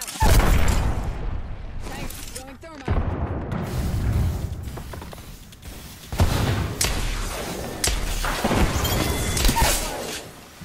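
A thermite grenade in Apex Legends thrown and going off: a loud crashing, fiery burst with crackling and rumbling that swells and recedes amid other game clatter and booms.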